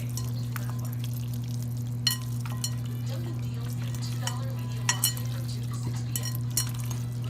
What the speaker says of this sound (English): Let's just mix this all up with our hands.